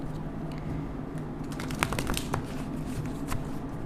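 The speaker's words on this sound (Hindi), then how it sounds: "जब तक मैं शफल कर रही हूँ" Tarot cards being shuffled close up, a soft continuous riffling with a few sharper snaps, quiet and without talk.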